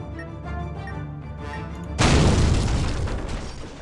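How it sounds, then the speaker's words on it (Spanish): Video game bomb explosion: after a steady background hum, a sudden loud close blast erupts at the midpoint and rolls off into a long noisy rumble, with no talking. "¡La bomba!"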